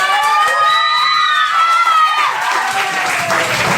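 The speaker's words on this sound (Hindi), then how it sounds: "जोरदार तालियां हो जाए।" An audience at a Saraswati Puja award ceremony breaks into loud applause and cheering, a dense crowd roar with high shouts and whistles rising over the clapping.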